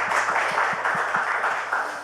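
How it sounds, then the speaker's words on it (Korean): Congregation applauding during a Friday Holy Spirit worship service at a church, a dense wash of clapping with a steady rhythmic pulse of beats running under it for about two seconds. "우리 하나님께 영광의 박수 올려드리겠습니다."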